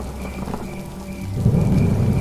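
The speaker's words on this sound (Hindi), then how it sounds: "तभी जोरदार बारिश की आवाज, बिजली कड़कती है।" Heavy rain pours steadily while a deep rumble of thunder swells up partway through, loud and close, with no voices.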